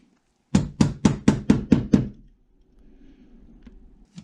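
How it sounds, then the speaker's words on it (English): Seven sharp, evenly spaced taps knock a tiny pin out of an M1A rifle, each one crisp and close, followed by a faint low rustle. "see if we can tap that out real quick without losing it"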